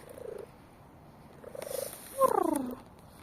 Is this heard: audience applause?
no